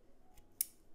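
A knife slicing through the packaging on a resin miniature kit box, giving one faint swipe and then a single sharp, close cut.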